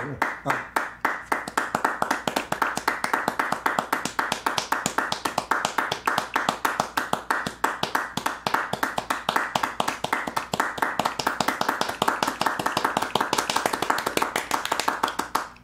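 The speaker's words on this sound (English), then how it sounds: "now let me clap your offbeats" Sharp hand claps repeat in a quick, steady rhythm on the offbeats, close and crisp, running continuously for the whole stretch at a slightly varying tempo with no talk over them.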